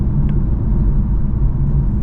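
A 2024 Infiniti Q50 Red Sport 400 Black Opal Edition with all-wheel drive cruises down a road, a loud, steady low rumble of engine and tyre noise heard from inside the car.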